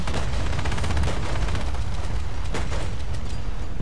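Tank guns and machine guns blasting in War Thunder's MAD Thunder mode, a dense, loud, continuous barrage of overlapping shots and booms with sharper cracks near the end.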